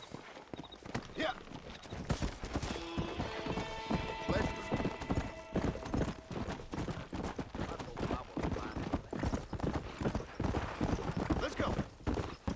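Rapid hoofbeats of a galloping horse in a Red Dead Redemption 2 style western video game pound steadily throughout, with a whinny early on and voices talking over the clatter.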